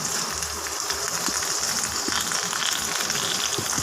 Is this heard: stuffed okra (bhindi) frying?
yes